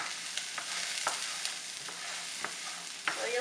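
Onion and carrot cook in a camping pot, giving a bright, steady sizzle with rhythmic scrapes from stirring every half second or so, close and fairly loud, with no voices.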